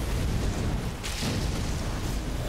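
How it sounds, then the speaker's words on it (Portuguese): A loud explosion in the video game Elden Ring Shadow of the Erdtree, heard as a sustained, rumbling roar that briefly swells into a brighter burst midway and then carries on without any talk over it. "É, explosão."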